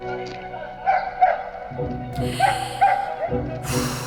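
In a scene from the 1997 Italian film La Vita è Bella, a dog barks and yips a few times in short bursts, mixed in with Italian voices speaking.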